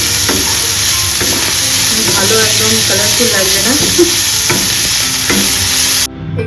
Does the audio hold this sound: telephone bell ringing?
no